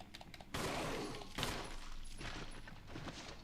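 Gunfire in the Resident Evil HD Remake video game: a sharp burst of shots erupts after a quiet moment, followed by a second loud blast and a dense, echoing rattle that gradually thins out.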